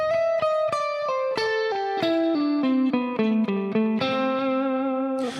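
Electric guitar played with a mostly clean tone and a slight touch of drive, a steady run of single picked notes stepping downward then settling, close and fairly loud with light effects and reverb, no talking.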